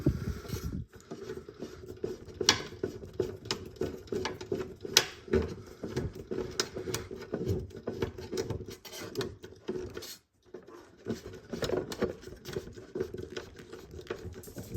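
Tiny screws are driven into the plastic chassis of a Nissan Skyline GT-R scale model, with quiet, close, irregular clicking and ratcheting taps from the screwdriver and a short pause near the end, no speech.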